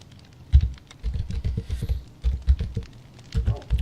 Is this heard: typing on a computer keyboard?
yes